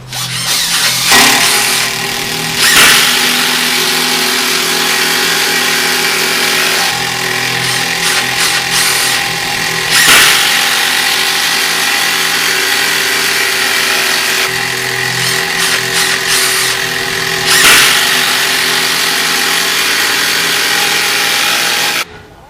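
Milwaukee M18 Fuel brushless impact driver sinking a screw into dense, weathered hardwood, a loud whirring motor with rapid hammering impacts in several long bursts separated by brief pauses, close and with no talking.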